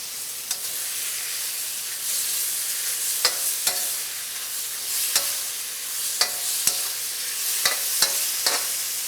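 Chili crisp beef lo mein sizzles steadily in a hot pan while a utensil stirs it. Sharp scraping knocks recur every second or so over the constant frying hiss.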